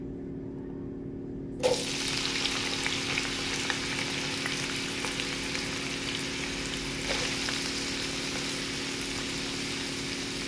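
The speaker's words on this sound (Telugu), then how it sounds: "ఇప్పుడు మనం ముక్కల్ని ఆయిల్లో వేయాలండి ప్యాన్లో" Raw banana pieces drop into hot oil in a pan with a sudden loud sizzle, which then settles into a steady, continuous frying hiss close by.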